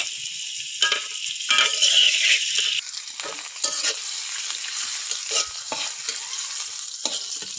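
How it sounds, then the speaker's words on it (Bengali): Paste of onion, garlic and dried chili frying in a little oil in a wok, a bright crackling sizzle that swells early, then settles into a steady hiss broken by spatula scrapes and taps. "পেস্ট ভাজা হোক"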